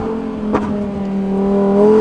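A 2020 Lamborghini Huracan Evo Spyder accelerates hard, its engine note climbing steadily in pitch and loudness, heard close from the car with one brief sharp transient early on.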